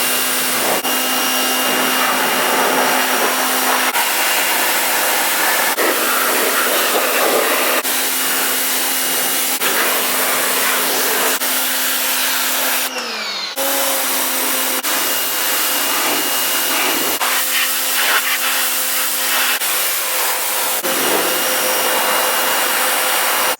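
An old, very dirty quad gets washed: a loud, continuous rushing hiss of spraying runs for over twenty seconds, with a few brief breaks and shifts in tone.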